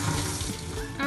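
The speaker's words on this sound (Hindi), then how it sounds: "इस पे हम ये ठंडा पानी छोड़ देते हैं ताकि हमारा पालक ज़्यादा पके" Cold water pours steadily onto spinach, a close, continuous splashing rush that briefly swells louder near the end.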